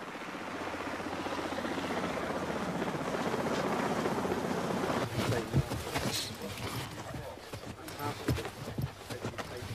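A helicopter used for a Royal Marines abseiling drill, its steady rotor throb sounding through the first half before giving way to choppy bursts of wind and movement, with voices under the noise.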